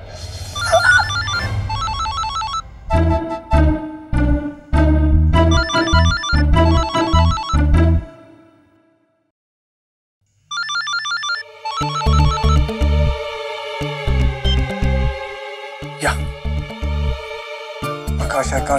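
A telephone plays a loud, close melodic ringtone in repeated bursts, stops for a couple of seconds, then starts again and keeps ringing.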